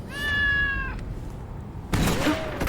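A cat in the cyberpunk platformer game Loopmancer gives one clear, drawn-out meow up close, followed after a short pause by a burst of game sound effects.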